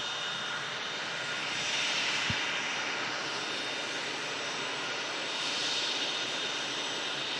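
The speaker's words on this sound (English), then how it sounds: "This BizJet in from Milan, Hawker 750." A Hawker 750 business jet arriving from Milan gives a steady, broad engine roar that holds at a fairly even level throughout, heard from a distance at an airport with no talk over it.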